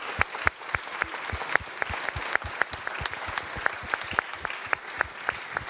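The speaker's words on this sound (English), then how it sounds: "A big round of applause for you as well." Sparse applause from a conference audience, with individual claps standing out distinctly in a loose, uneven rhythm at moderate volume.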